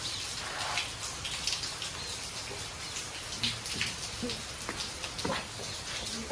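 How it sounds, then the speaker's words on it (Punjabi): Rain patters steadily on surfaces close by, a dense hiss of drops with occasional louder splashes, and no voices. "ਆਹੋ ਬੜਾ ਮੀਂਹ ਆ"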